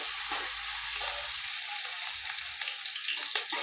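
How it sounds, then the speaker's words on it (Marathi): Chopped onion frying in hot oil with cumin for kachori filling, a steady soft sizzle running throughout with faint stirring scrapes near the end. "आता कांदा टाकून घ्यायचा आहे कांदा थोडासा लाल होईपर्यंत असा भाजून घ्यायचा"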